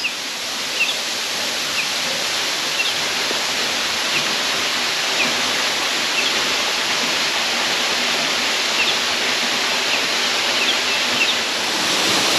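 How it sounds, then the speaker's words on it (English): Wolf Waterfall on the Arima old road in Trinidad, a tall fall in dense bush, roars as a steady, loud broadband rush of falling water that fills the whole span without a break. "we have reached the Wolf Waterfall"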